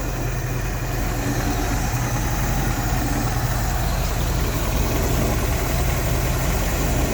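A junkyard Buick Skylark engine, revived after years of sitting, runs at a steady idle, a continuous close, loud low rumble with no voices over it.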